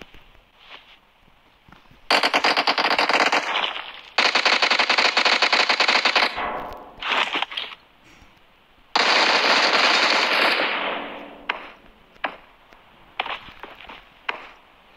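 Uzi fire in PUBG Mobile crackles in long, loud automatic bursts separated by quieter gaps with shuffling movement and a few shorter volleys.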